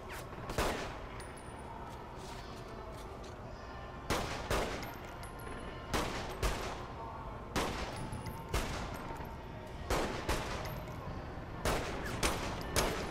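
Repeated bursts of gunfire in the open-world shooter Saints Row the Third, loud and close, with sharp volleys every second or two over a constant bed of game noise and chaos.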